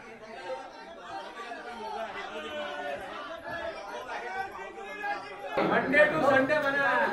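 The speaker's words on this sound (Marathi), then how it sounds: "भाजपच्या मुंबईतल्या कार्यालयाबाहेर सुद्धा जल्लोष करण्यात आला" Party workers celebrating outside the BJP office in Mumbai make a steady crowd roar of chatter and cheering, swelling louder near the end, with voices talking throughout.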